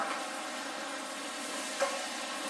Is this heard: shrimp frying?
yes